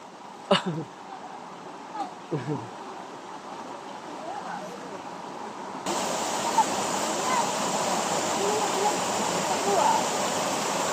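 Continuous rushing water of a stream fills the clip, growing louder and fuller partway through, with a few faint voices early on.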